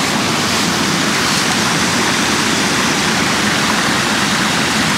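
Rushing floodwater of the Biyuk-Karasu river in Crimea's Nizhnegorsky district, a loud, steady, broadband roar that continues unbroken without any voices.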